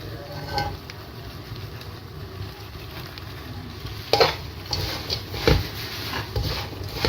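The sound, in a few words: panjeeri being stirred and fried in a pan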